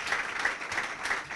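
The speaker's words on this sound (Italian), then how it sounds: "Allora, un applauso alle donne di Cristian Pardo." Short burst of steady crowd applause at a futsal day awards ceremony, dense and even throughout with no voices over it.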